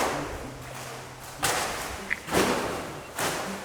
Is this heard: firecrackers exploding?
yes